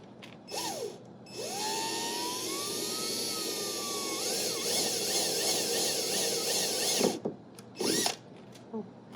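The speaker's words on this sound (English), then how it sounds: "you're gonna go ahead and proceed in drilling." A power drill drilling holes in a 2019-2021 Dodge Challenger car body, whining steadily for several seconds, its pitch rising as it bites in, then stopping abruptly, with brief voices before and after.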